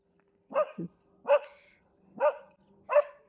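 A dog barks four times, loud and close, in sharp separate bursts about a second apart.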